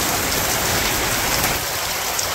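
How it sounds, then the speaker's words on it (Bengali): Torrential rain in a Bangladeshi village, a loud, constant wash of raindrops pounding nearby surfaces, steady throughout with no talking. "জোরসে বৃষ্টি হইতেছে।"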